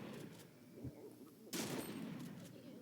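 Gunfire in the Fortnite video game, a burst of shots erupting mid-clip over steady background game noise, fairly close and loud, following a few quieter scattered sounds.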